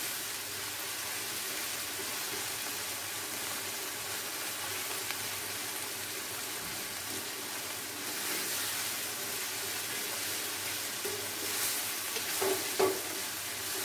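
Minced keema frying in a pan with tomato and garlic gives a steady, even sizzle and hiss throughout, with a few small crackles and spatters near the end and no voices.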